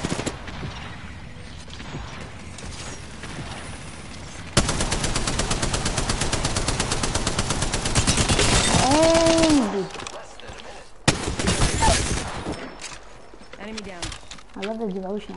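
Spitfire light machine gun in Apex Legends firing a long sustained full-auto stream, then a second burst after a short pause, with players talking over the shooting.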